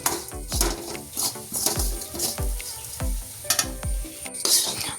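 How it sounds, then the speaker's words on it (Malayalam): Grated coconut roasting in a pan for a pumpkin and green gram curry seasoning, with a spatula scraping and stirring in repeated rhythmic strokes over a steady sizzle, close and fairly loud. "അപ്പം ഇനി തേങ്ങ നന്നായിട്ട് മൂത്ത് വരണം. ഒരു ബ്രൗൺ കളറ് ആകണം കേട്ടോ."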